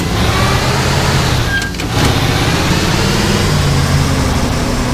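Steady, loud engine drone of a vehicle on a nighttime highway in the video game Highway 2 Die, holding constant throughout with a brief dip partway through.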